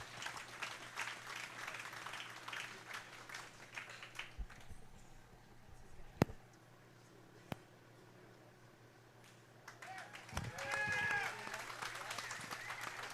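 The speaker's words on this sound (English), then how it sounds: "Let's give another well-deserved round of applause." Scattered applause at a county fall fair dairy steer show, light clapping that fades to a quiet lull, a couple of sharp knocks, then rises again into a fuller round with voices in the background.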